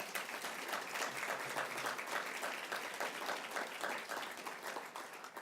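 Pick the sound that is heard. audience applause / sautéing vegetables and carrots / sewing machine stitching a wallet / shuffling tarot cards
audience applause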